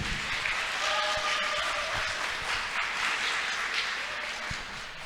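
A crowd applauds steadily and warmly for an academic from Universitas Langlang Buana Bandung at a public discussion forum, a dense, even clapping that lasts throughout.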